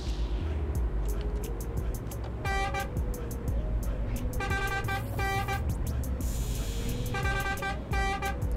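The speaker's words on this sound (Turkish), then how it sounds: "Kornası da bu şekildeydi." A Scania Touring coach's standard electric horn (not an air horn) honks in several short bursts over steady engine and road noise inside the bus.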